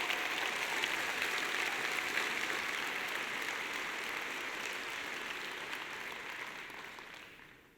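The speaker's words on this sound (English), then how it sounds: "let's give him another a round of applause for these 6 winners of the Innovation Award" Audience applause for six Innovation Award winners at a Red Hat customer support event, a broad steady wash of clapping that holds evenly, then slowly thins and fades out near the end.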